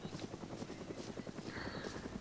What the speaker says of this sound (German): Ich höre den Helikopter wieder. Da oben ist er.